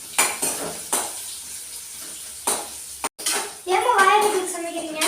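Green chillies sautéing in a pan, with several sharp metal utensil scrapes and clinks spread apart, then a brief gap followed by a louder stretch of sizzling and stirring, close by, with faint voices in the background.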